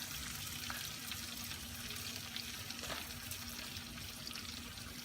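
Mackerel fries in a pan with a steady, dense sizzle and crackle that runs unbroken throughout, close and fairly loud, with no talking.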